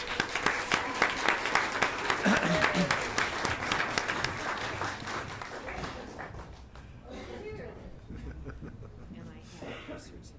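Audience applause at a school board meeting swells loudly at first, then gradually thins and fades, with a few chuckles and voices mixed in near the end.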